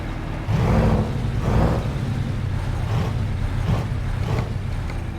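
A Detroit 8V92T diesel truck engine in American Truck Simulator drones steadily, with throaty low rumble and repeated swells as it revs, alone without talk.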